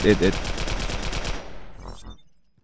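Rapid automatic turret fire from an engineer's deployed turret in the online shooter Global Agenda, a dense, loud burst of repeated shots that trails off into a brief fading tail.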